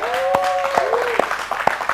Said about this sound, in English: All right, clap it up real quick.